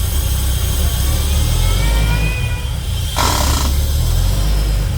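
Holden VY Calais engine idling steadily after a restoration, smoky on first start, a loud continuous low rumble throughout with a brief hiss partway through.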